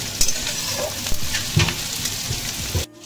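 Onions frying toward light golden brown for an Indian piranha fish curry, a continuous close sizzle with bursts of stirring and spatula knocks, ending abruptly.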